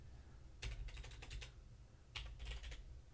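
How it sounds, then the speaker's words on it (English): Two quick bursts of typing on a computer keyboard, close-up rapid key clicks separated by a short pause, over a low background hum with no talking. "You can hear me typing away."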